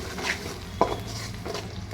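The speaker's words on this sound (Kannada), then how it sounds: "ಇದು ಒಂದು 2 ರಿಂದ 3 ನಿಮಿಷಗಳ ಕಾಲ ಚೆನ್ನಾಗಿ ಫ್ರೈ ಮಾಡ್ಕೋಬೇಕಾಗುತ್ತೆ" Green masala paste frying and being stirred in a pan for egg sambar, with a soft sizzle and a few spoon scrapes, one sharper clack near the middle, close and moderately quiet, no talking.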